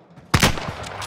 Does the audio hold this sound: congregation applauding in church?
no